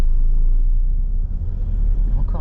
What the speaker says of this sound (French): On réaccélère tranquille